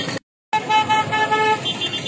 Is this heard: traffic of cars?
yes